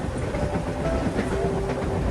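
A fast suburban local train runs through Bhayandar railway station with a steady, loud rumble and rattle of rail cars, heard from on board, with no pauses.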